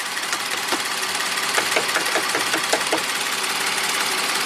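A VW Atlas engine idling steadily under the open hood, a continuous mid-range hum with a faint ticking texture and a brief cluster of light taps partway through.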